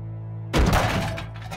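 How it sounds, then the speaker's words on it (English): A statue of Mary is pried up and smashed with a crowbar in the game Richard & Alice, heard as a single sudden, loud crash that breaks into scattered debris and fades over about a second, with no talking. "You smashed Jesus' mummy, Muffy!"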